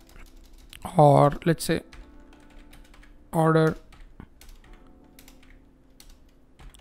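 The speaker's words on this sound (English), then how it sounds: "I'll just type in text call now" Two quick bursts of computer keyboard typing, crisp close key clatter, with brief speech in between.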